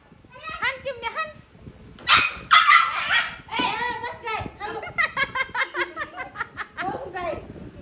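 A dog barks in quick, loud bursts up close, with several sharp yips and short barks in series, mixed with people talking and a voice nearby.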